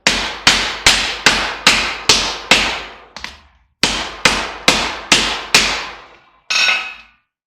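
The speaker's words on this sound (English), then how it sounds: "We're going to hit it with a hammer." A hammer strikes a circuit breaker covered by a rag, landing about a dozen sharp, evenly spaced blows in two bursts, each hit loud and close with a short ringing decay, and one final heavier strike after a pause.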